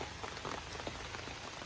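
Steady rain falls at a camp in Maine on a rainy day, a dense, even hiss of drops pattering on surfaces with no break and no voices.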